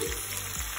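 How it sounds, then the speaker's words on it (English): Onions hit hot spiced oil in a pan with a brief, close, steady frying hiss and sizzle. "Add in your onions,"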